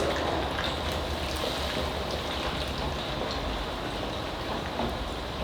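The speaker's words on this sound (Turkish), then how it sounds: "Tek tek kızartacağız bunları şimdi." Steady crackling sizzle of yogurt köpoğlu ingredients frying one by one in hot oil, continuous and fairly close, with no talking.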